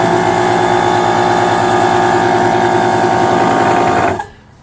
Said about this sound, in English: Now originally I was using this DeWalt compressor, but it's very noisy.